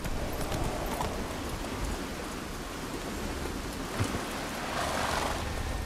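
Horse hooves galloping in The Witcher 3, a continuous, even clip-clop running at a steady pace under a diffuse noisy bed, with no voices.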